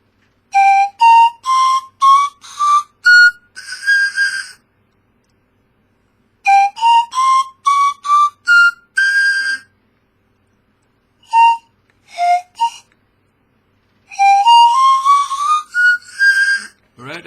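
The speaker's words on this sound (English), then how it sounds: "Let me play for you the blues, the minor blues scale." A whistle plays a minor blues scale as three separate runs of quick, clear ascending and descending notes, with short gaps between the runs and no talking.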